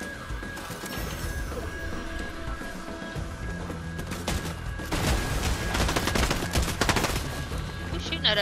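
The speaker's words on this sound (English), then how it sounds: "Who's shooting at us?" Fortnite gunfire rattles in dense, rapid bursts, louder and heavier toward the end, mixed with crashes and other game sounds over a steady background.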